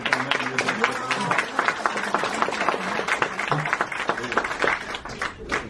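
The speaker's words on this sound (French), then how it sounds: "on peut applaudir" Audience applause at a cultural centre book presentation in Paris, a crowd clapping with sharp, uneven claps, fairly close, while talking carries on underneath.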